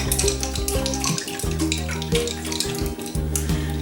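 Water sloshes inside a lidded jar as it is swirled and shaken to mimic a moving creek, a close, continuous run of gurgling splashes with uneven surges and brief lulls.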